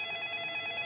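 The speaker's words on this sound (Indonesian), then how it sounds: "Kita akan menjawab Ustadz dari telepon interaktif kita." Telephone ringing for an interactive call-in during a television broadcast, a short, steady electronic ring tone heard alone at moderate volume.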